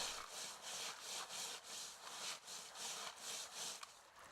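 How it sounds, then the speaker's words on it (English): Stream sediment is pushed through a mesh sieve in regular rhythmic strokes, giving a gritty scraping and rubbing sound roughly every half second, close and steady with no talk. "use a pushing motion in order to pass material through the sieve"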